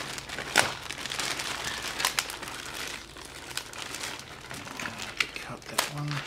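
A large plastic bag of parts from a 1/24 Revell London Bus model kit crinkles close by in scattered crackly bursts, heard under someone talking.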